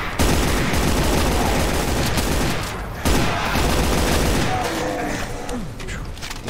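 Machine gun firing in Doom, SIGIL episode E5M4, a steady dense stream of rapid shots throughout, loud and close, with a brief break near the middle and game sounds mixed in.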